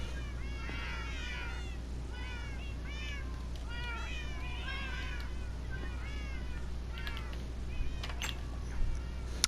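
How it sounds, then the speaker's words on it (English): Many cats meowing in Minecraft on PS4, a steady overlapping chorus of short, rising meows repeated throughout at moderate level over a constant low hum, with a few clicks near the end. "Lot of cats, and I mean lots of cats."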